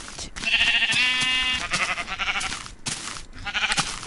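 A Minecraft sheep bleats in a clear, wavering cry that sits over game background sounds, followed by a few more short rustles and clicks.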